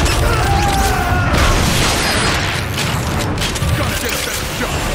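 Rocket blast in the Transformers Fall of Cybertron game on Xbox 360, a dense roar of booms and crashing debris with rumbling mechanical battle noise running throughout, loud and close.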